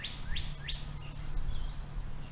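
A bird chirps outdoors near a campsite, a few bright rising tweets in quick succession over a low steady hum of a distant lawn mower.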